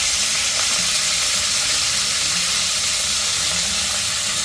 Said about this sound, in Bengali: ফুলকপিগুলো একটু ভেজে নিচ্ছি, আলুগুলো একটু ভেজে নিচ্ছি